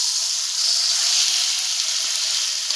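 Chicken pieces sizzle steadily with spices in a pan, a bright, continuous frying hiss with no talking.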